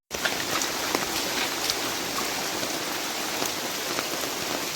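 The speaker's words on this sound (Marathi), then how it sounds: "सो पावसूय हेवी पडटा." Heavy rain falls at night in Goa near a stream, a steady close hiss of drops pattering on surfaces that continues unbroken, with no talk.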